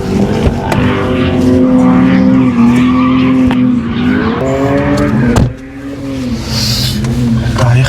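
A car drifts during drift practice, with loud continuous tire squeal and engine revving, wavering pitch as it slides, close and dominant, while people talk faintly in the background.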